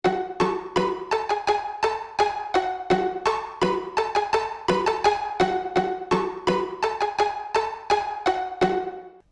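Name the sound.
simple repeating flute melody in a beat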